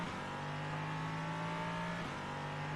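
Race car engine in the iRacing sim racing game: a steady droning engine note holding pitch, then a brief shift in tone as it revs on, continuous and moderately loud with no talking.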